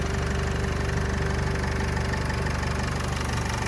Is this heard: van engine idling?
yes